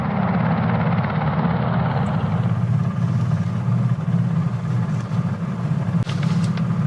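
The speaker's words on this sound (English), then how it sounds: "A helicopter just landed right there." A helicopter lands close by at a campsite, producing a loud, continuous rotor and turbine roar that gradually softens slightly as it settles, with no one speaking.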